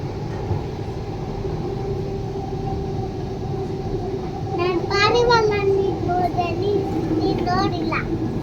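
Steady low rumble of a metro train running, with a continuous hum throughout and children's and adults' voices chattering over it in the second half.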